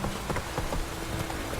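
Steady rain falls in the open world of The Witcher video game, a soft continuous patter with faint hoof clops mixed in, loud and even throughout with no talk.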